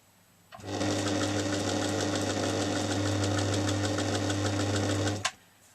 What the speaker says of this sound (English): this is just a basic domestic sewing machine, which is actually 30 years old